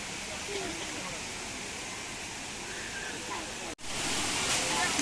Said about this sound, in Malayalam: കാടിനുള്ളിൽ വാട്ടർഫോൾസ്.